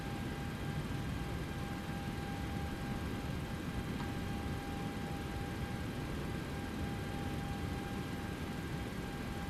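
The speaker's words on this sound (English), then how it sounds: "So we're gonna do basically a full power takeoff here." Boeing 737-700 engines at full takeoff power in a flight simulator: a steady, loud, broadband jet roar with faint constant whining tones, unbroken throughout and free of talk.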